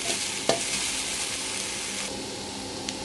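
Whole spices roasting in oil for North Karnataka garam masala give a loud, continuous close sizzle, with a couple of brief clicks of stirring against the pan and no speech.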